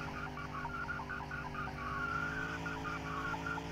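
Front-wheel drive car in The Long Drive video game, its wheels spinning and straining with a steady engine drone and a wavering squeal that rises and falls throughout, with no voices.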